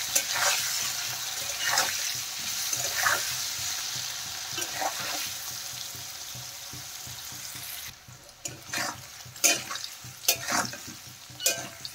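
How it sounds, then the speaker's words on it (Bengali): Salted paneer pieces are stirred and fried in a pan, a constant sizzle broken by repeated scraping strokes of a spatula, growing sharper and more separate toward the end, with no talking. "নেড়ে চেড়ে ভালো করে পনিরগুলো আমি ভেজে নেব।"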